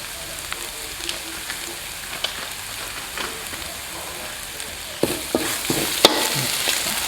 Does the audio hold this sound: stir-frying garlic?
yes